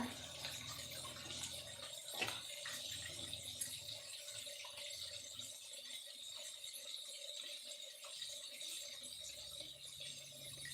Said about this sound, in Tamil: ரொம்ப அலசக்கூடாது லைட்டாக தான் அலசணும்